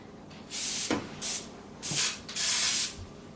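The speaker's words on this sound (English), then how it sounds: "The first thing that we have to do with this is spray it with some" An aerosol can of baking spray hisses in four short bursts, close up, with a light clunk between sprays, coating a casserole dish.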